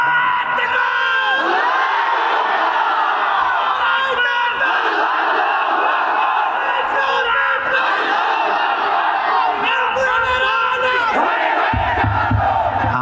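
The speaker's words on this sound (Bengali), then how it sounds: "তাকবীর দেন জোরে মিয়া" A large crowd at a political rally roars a loud chant of takbir in unison, sustained and reverberant with overlapping shouting voices filling the whole stretch.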